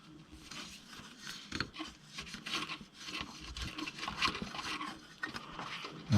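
A small screwdriver scrapes and rasps debris out of a tight hole on a CF Moto ZForce 1000 side-by-side, giving steady close scratching with brief louder scrapes and no talk.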